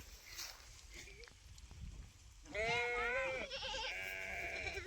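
Goats bleat repeatedly in the second half, loud and close, while goats and sheep graze on a farm, over background voices and outdoor noise.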